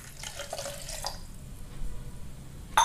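Water poured from a cup into a grinder jar holding grated coconut and cardamom, a steady splashing pour for about a second, then quieter room noise and a brief clink near the end.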